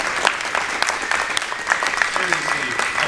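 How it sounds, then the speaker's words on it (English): An audience at a bike summit applauds candidates with sustained, crisp clapping from many hands, close and fairly loud throughout, with scattered voices mixed in. "Can we just give another round of applause for all of the candidates?"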